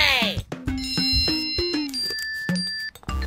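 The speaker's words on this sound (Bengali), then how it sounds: "ও মাই গড, কলিং বেল বাজলো মনে হচ্ছে।" Cartoon doorbell in an animated Bengali comedy: a ringing electronic chime with sustained bell tones plays while a voice talks over it.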